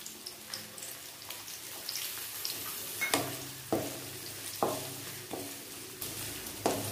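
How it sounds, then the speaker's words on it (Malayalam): Shallots fry in oil with curry leaves for a garlic curry, giving a gentle crackling sizzle close by. Repeated scrapes and taps from stirring land every second or so, and nobody speaks. "നമ്മുടെ ചെറിയുള്ളിയും നന്നായിട്ട് നമ്മുടെ ഈ എണ്ണയിൽ കിടന്നിട്ട് നന്നായിട്ടൊന്ന് മൂത്ത് വരണം"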